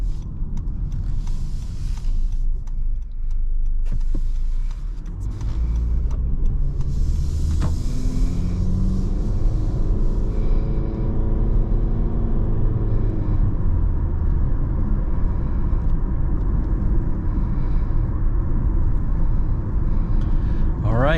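A 2023 Honda HR-V with all-wheel drive and a CVT transmission accelerates on the road, its steady low engine and road rumble droning continuously, with a brief quieter dip early on and no talk over it.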